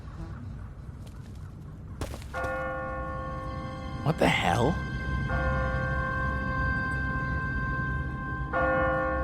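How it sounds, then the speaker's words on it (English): An automatic church bell tolls on a timer in a quiet, deserted city, several sustained ringing strikes with long humming decay, a brief exclamation from a man between them. "What kind of church bell goes off at 20 past the hour?"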